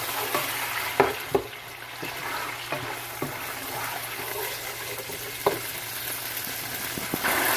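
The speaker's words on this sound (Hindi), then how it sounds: "टमाटर लहसुन अदरक की पेस्ट की बुनाई करते 2 से 3 मिनट हो गए" A paste of tomato, garlic and ginger sizzles steadily in a pan while a spoon stirs it, with occasional scraping knocks, close and even.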